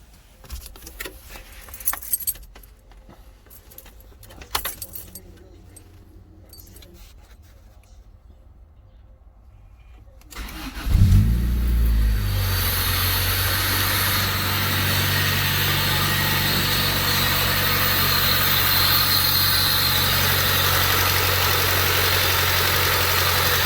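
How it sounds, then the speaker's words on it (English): Keys jingle in a car for several seconds before the engine cranks and catches, settling into a steady, loud idle that runs on evenly after a homemade coolant reservoir was fitted. "Let me get this car started."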